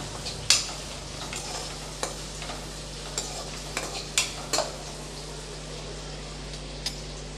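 Onions and broken cashews are sautéed in a pan for vermicelli biryani: a low steady sizzle with scattered spatula clicks and taps.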